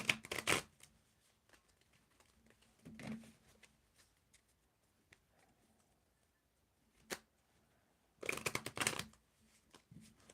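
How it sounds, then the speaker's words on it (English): Tarot cards shuffled by hand in several separate bursts, crisp riffling rattles with quiet pauses between them, close and fairly loud, with no talking. "I'm going to begin shuffling, Diva Sea Goddess,"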